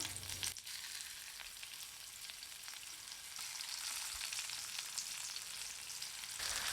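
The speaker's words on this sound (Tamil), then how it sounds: "சுற்றியில் எண்ணெய் விட்டு மீனை போட்ட பிறகு மீடியம் ஃப்ளேம் விட்டு சுட்டு எடுத்துக்கணும்" Masala-coated fish frying in coconut oil with curry leaves on a hot dosa pan over medium flame, a steady close sizzle and crackle that holds throughout without any talk.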